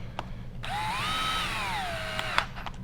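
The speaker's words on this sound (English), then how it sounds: "Use your drill." A cordless drill whirs up briefly, its motor pitch rising and then sagging as it drives a T25 Torx bolt on an Echo SRM trimmer blade kit, with a few small clicks around it.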